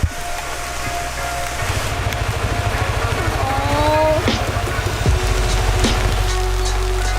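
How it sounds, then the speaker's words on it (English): Steady rain hiss fills the background alongside a low engine rumble, with a few faint tonal squeaks drifting through. "Raining again."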